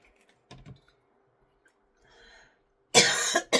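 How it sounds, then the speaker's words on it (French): A close, loud burst of coughing ends a quiet stretch at a desk while someone glues album pages, preceded by faint tapping and rustling, two harsh coughs in quick succession. "Je crois que c'est l'odeur de la colle qui me fait tousser."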